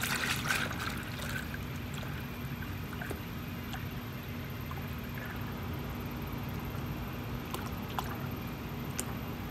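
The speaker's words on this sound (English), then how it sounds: "since I'm going to be filling up my 100-gallon tank" Water pours steadily into a 100-gallon herbicide sprayer tank, a faint continuous trickling rush with a low hum underneath and a few small clinks, with no voices.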